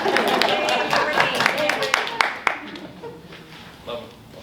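Brief burst of hand clapping from a few people at a governing board meeting, close and sharp for about three seconds before tapering into a couple of stray claps.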